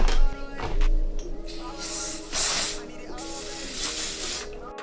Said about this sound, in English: We're going to use Ebon Melt Spray.